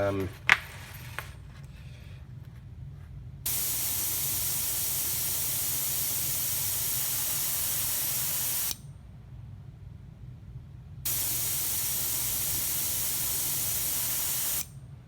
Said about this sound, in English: so you notice I've sprayed a little bit, and the compressor has not kicked on